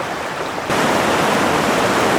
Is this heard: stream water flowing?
yes